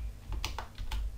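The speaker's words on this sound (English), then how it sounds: "I can press Control-Alt-A to display an easy-to-use dialog" A Control-Alt-A shortcut pressed on a computer keyboard: three or four quick, close plastic key clicks in a short burst, quiet with no talk.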